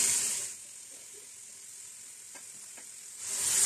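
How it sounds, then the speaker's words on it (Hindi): Sliced onions, two medium ones, frying in hot oil while a beef pasanday is being made. A broad steady sizzle opens the clip and then dies back to a low hiss with a few faint clicks before swelling loud again at the end. "प्याज को इसमें लाइट गोल्डन होने तक फ्राई कर लेते हैं"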